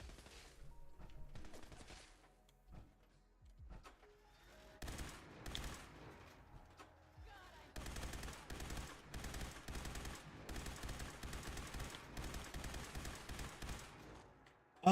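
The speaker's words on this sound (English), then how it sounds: "You shooting at me with laser weapons?" Laser weapons fire in rapid bursts in Fallout 4 modded survival gameplay, starting as scattered shots, then building to dense volleys of sharp blasts in the second half, mostly without talk.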